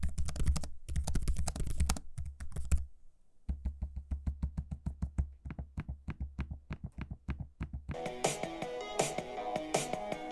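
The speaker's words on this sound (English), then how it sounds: "here's a quick audio sample of me using the trackpad and the keyboard" Keys clack in quick bursts and trackpad taps click on an Asus ROG Zephyrus M16 laptop with an i9-12900H, close and crisp with no talking; a denser, busier stretch takes over near the end.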